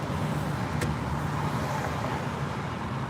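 Cars pass continuously on a busy highway in traffic, a loud steady roadway roar with engine and tire noise heard from inside a vehicle, no talking.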